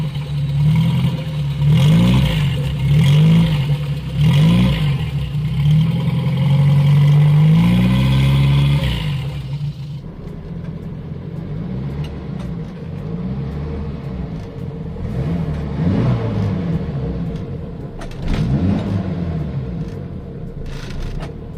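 A 1967 Fiat 850 Coupé's rear engine revs hard several times through a very short exhaust, a loud rasping sound rising and falling in bursts, then settles into a rougher, lower running rumble.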